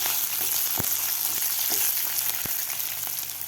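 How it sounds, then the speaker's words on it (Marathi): Thickly cut green chillies fry in oil, a loud, constant, close sizzle that fills the whole span, with a few brief clicks of a utensil against the pan and no voices. "1 मिनिटभर आपल्याला मिरची परतून घ्यायची आहे।"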